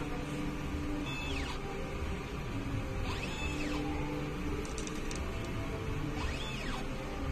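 Inkjet printer running a head cleaning cycle, a steady mechanical hum with repeated rising and falling whirring sweeps of the carriage motor, three passes in a row at close range.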